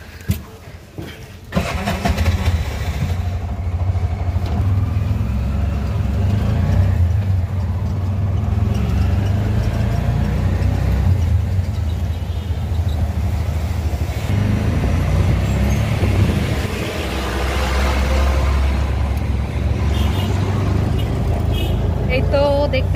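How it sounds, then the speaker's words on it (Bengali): Heavy road traffic of large vehicles such as buses and trucks passing on a rainy day, a continuous loud low engine rumble and tire roar that swells and fades steadily throughout, heard from nearby. "একদম বড় বড় গাড়ি যায় রোড দিয়ে, আর এগুলোর সাউন্ডই সব আমার ঘর পর্যন্ত দেখা যায়"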